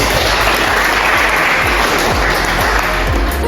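A classroom audience applauds students in a lecture on drying, giving loud, continuous, dense clapping that holds steady throughout with no talk over it.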